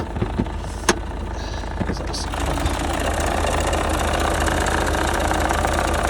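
A Mazda 3 engine idles with a steady, even mechanical hum and light rhythmic ticking, preceded by a few brief clicks and knocks near the start.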